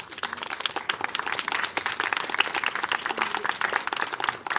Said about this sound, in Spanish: Démosles un aplauso, por favor.